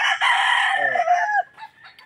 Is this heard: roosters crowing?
yes